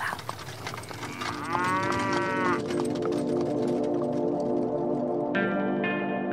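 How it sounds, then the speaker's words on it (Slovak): Cows low in a biblical audio drama, the pair drawing the ark of the covenant on a cart: one long, wavering moo rises and falls in the middle, then a shorter, higher moo follows near the end, with no talking. "A tak dve kravy priviezli truhlu na pole Jehošu Bet-Šemešského."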